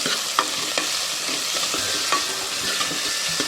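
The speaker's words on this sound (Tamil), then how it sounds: "வெங்காயம் நல்லா வதங்கிட்டு வெங்காயம் இந்த அளவுக்கு வதங்கிடுச்சு" Chopped onions and curry leaves sauté in a hot pan for green peas kulambu, a steady close sizzle broken by sharp scraping clicks as a spoon stirs them every so often.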